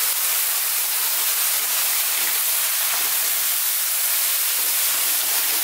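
Sweet and sour sauce hits a very hot Chinese wok of crispy peppers for sweet and sour pork, giving a loud, continuous bright hiss and sizzle with no talk.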